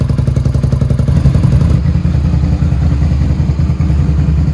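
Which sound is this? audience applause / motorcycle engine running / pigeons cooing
motorcycle engine running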